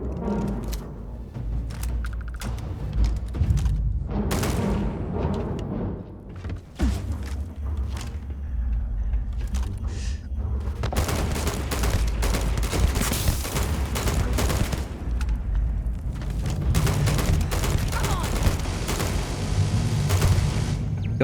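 Sustained bursts of gunfire from the video game Starfield, loud and dense with rapid shots and booms nearly throughout, with a brief lull before the firing intensifies again.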